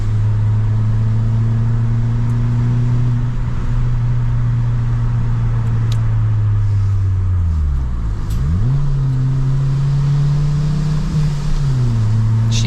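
A Fiat Punto Evo with a loud exhaust drones steadily while driving, its pitch climbing under acceleration, dropping sharply at a gear change around the middle, then rising again in a continuous close-up rumble with no talk.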